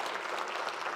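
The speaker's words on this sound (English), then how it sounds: "Can we do a round of applause for the youth real quick, for Adrian and all them?" An audience at a church service claps in a brief, even burst of applause, heard steadily with no talking.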